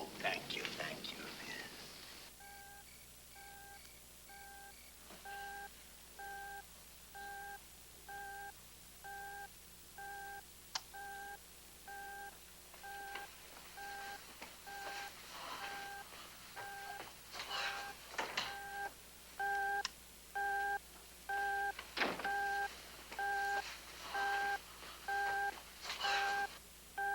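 An old 1970s telephone line rings on a call being connected, sounding as a repeating series of even electronic tones with regular gaps, faint and alone in a quiet room.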